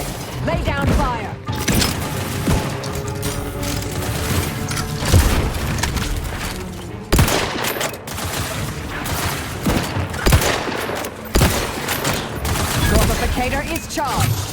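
Heavy sustained gunfire in Outer Worlds 2 rattles in dense, loud bursts with booming impacts, broken by brief gaps while in-game voices talk over the combat.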